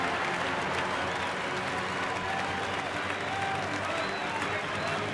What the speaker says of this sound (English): And now the crowd trying to help Greinke through this bases loaded jam